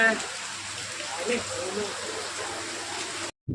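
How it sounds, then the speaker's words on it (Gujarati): Heavy monsoon rain pours down as a continuous, dense hiss close by, steady throughout before cutting off abruptly near the end. "આજે અમારે વરસાદ જોરદાર આવી ગયો છે"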